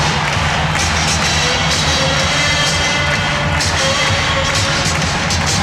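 A basketball arena crowd at a 1993 NBA playoff game cheers in a dense, loud, sustained roar that fills the whole stretch without a break.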